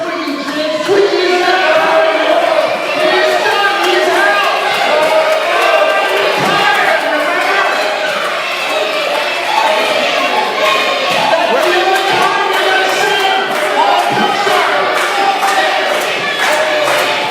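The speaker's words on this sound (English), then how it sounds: "crowd chanting for Twiggy" A wrestling crowd at a UWC Championship Wrestling event chants and roars continuously and loudly, with dense overlapping voices and occasional thuds throughout.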